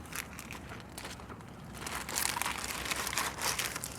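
Plastic bags from a bulk supply store handled up close, with irregular crisp crinkles and rustles that grow busier and louder in the second half, with no voices.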